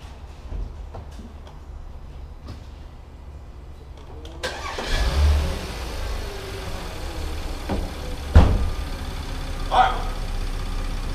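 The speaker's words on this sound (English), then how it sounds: "I'm gonna fire it up so y'all can hear it." An Audi car engine cranks and starts after a quiet stretch, then settles into a loud close idle with a couple of revs and fans running.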